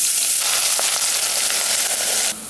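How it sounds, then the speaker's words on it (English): Ginger and garlic frying in olive oil in a pan, a loud, steady broadband sizzle with faint stirring clicks, abruptly quieting near the end; no talking. "The ginger and the garlic go into the pan."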